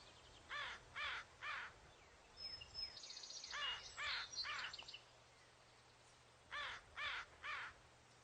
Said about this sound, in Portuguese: Mas esses gritos não são algo ao acaso. São os corvos se comunicando.